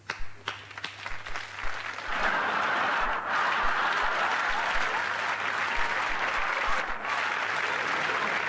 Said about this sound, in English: And a big round of applause for Hank Shepherd and Trigger.